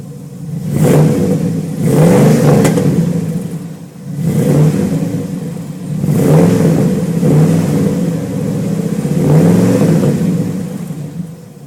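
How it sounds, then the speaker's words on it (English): Chevy truck engine revved up several times in a row, each surge rising into a loud, rumbling roar and easing back to idle between bursts, close by with no talking. "but we're going to rev her up."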